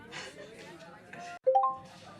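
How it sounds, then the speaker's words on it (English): A bright chime sounds once as a halfway time warning during a speed-dating event, a clear ringing ding that rises sharply and fades over about a second, following murmured conversation. "This is your halfway warning, guys."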